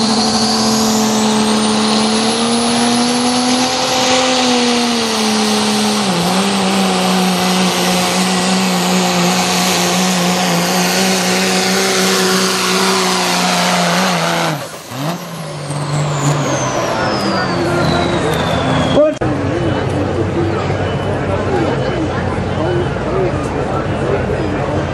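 A diesel pickup truck at a truck pull roars loud and close, its engine pitch climbing and holding under heavy load before cutting abruptly, then a high whine winds down over the fading rumble.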